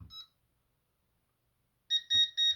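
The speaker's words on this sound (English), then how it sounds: "So to trip a medical emergency alarm, push and hold the green cross" A Concord 4 home security system sounds its medical emergency alarm after a brief low thump, giving three loud, close electronic beeps in quick succession.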